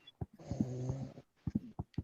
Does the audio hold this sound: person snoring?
yes